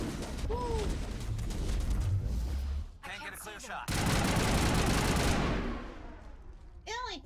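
Rapid gunfire bursts from the video game Mass Effect, loud and sustained across most of the stretch, with a brief lull in the middle and dense bursts resuming before fading near the end.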